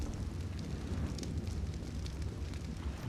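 Crackling, roaring fire in ARK: Survival, a steady broadband rush with scattered pops running continuously at even loudness, with no voices.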